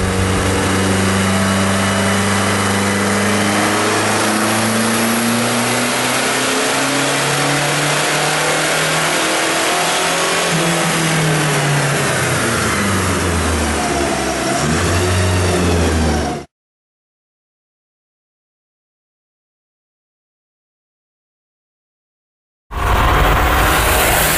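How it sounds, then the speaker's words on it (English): A custom Dodge Omni engine running with nitrous added, loud and close, revving up and down with a harsh, rough-sounding tone; a long stretch of silence follows before the engine returns abruptly near the end. "even though the car was running and was actually kind of quick, the engine sounded horrible"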